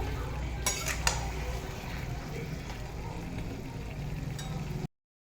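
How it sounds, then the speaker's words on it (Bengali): Chicken sautéing in oil with onions in a pan, with scattered clinks of a utensil against the pan over a steady, low frying hiss that cuts off abruptly near the end. "এরপর আমি চিকেনটা এখানে দিয়ে দিয়েছি চিকেনটা ভালো করে এখানে কষিয়ে নেবো"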